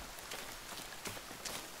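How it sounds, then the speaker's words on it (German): Steady rain falls in the survival video game The Forest, a soft, even hiss of drops on surfaces with a few slightly louder patters, faint and continuous throughout. "Aber es regnet immer noch."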